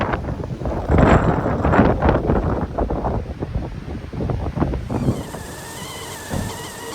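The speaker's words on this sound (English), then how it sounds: "the wind is insane" Strong gusty wind, reported at around 45 km/h, buffets the microphone at a coastal camp near Esperance. Rough, uneven rumbling surges rise and fall for several seconds before easing.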